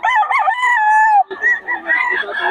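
A Boston Sweater gamefowl rooster crows loud and close: one long, strained call that breaks off and then rolls into a rougher, second stretched crow.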